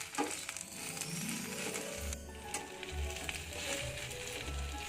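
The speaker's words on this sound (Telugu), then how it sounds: "ఈ గోంగూర కూడా మొత్తం మెత్తగా అయ్యేంత వరకు దీన్ని మనం ఫ్రై చేయాలి." Gongura leaves frying in a pan over low to medium flame, a continuous crackling sizzle with soft popping, close and steady throughout.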